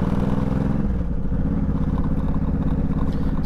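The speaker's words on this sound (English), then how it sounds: "Screen's gonna rattle." A motorcycle windscreen rattling while riding in cold weather, a steady buzzing clatter under constant engine and wind roar that fills the whole stretch.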